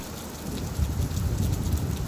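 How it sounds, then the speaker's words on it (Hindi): A heavy thunderstorm pours down steadily on a forest, with a continuous hiss of rain and deep rolling thunder rumbling low and loud underneath, swelling toward the middle and staying strong to the end. "ये गरज कुछ तो अलग है आज"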